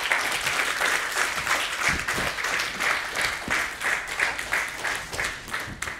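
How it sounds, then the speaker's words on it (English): Steady round of audience applause at a livestreamed launch event, a moderately loud, continuous clatter of many hands that holds throughout without talk. "please give them a big round of applause"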